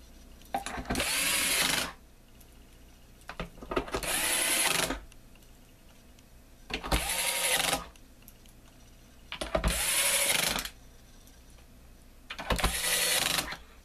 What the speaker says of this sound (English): Grab your screws for the back and replace your 6 screws.